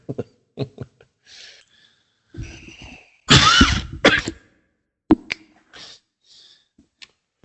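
Several sharp coughs and throat-clearing bursts from a person, close and loud, separated by short silences, with a few small mouth noises between them.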